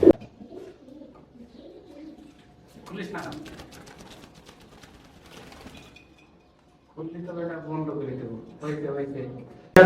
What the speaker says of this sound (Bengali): পুরো কালদমের মতো বড় কবুতর।